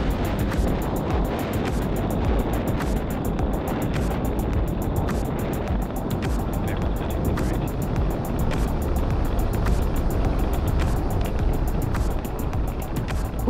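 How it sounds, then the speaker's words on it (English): A Falcon Heavy rocket roaring in flight under five million pounds of thrust, a continuous loud rumbling, crackling roar that stays steady and dense throughout, heard alone without voices. "We are 30 seconds into flight under the power of 5 million pounds of thrust. Falcon Heavy is headed to space."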